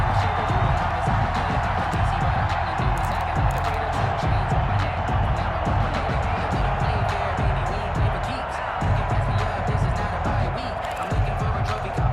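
A large football stadium crowd roars early in a game, a dense, steady wall of cheering and noise with commentators talking over it.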